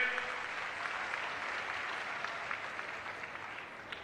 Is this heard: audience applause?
yes